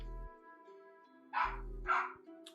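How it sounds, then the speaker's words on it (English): A household dog barks twice in the background, two short bursts about half a second apart, moderately loud and set against a steady electronic hum. "Excuse my dog barking in the background."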